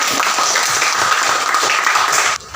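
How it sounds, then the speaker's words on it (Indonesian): Classmates applaud a pupil during a sixth-grade math lesson, with dense, even clapping close by that stops abruptly near the end. "beri tepuk tangan dulu untuk Fadil."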